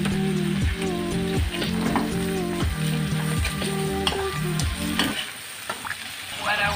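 Shrimp sizzle loudly in butter and garlic in a pan, a steady close crackle and hiss over a repeating harmonic tone of background music that drops out near the end.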